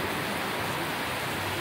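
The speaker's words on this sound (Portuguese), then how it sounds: "2h30 da tarde e a chuva caindo." Steady afternoon rain in Itumbiara, Brazil, a dense, even hiss of falling water with no breaks, fairly close and alone, with no voices.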